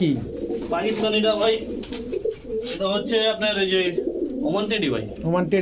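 A male pigeon coos in rhythmic, repeated phrases at a market stall selling pigeons, close and loud, with other birds calling and people talking around it.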